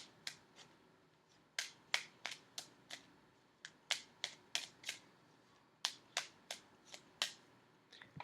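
Tarot cards being shuffled by hand, heard as crisp, sharp riffles and snaps coming in quick bursts with short pauses between, close and clear in a quiet room.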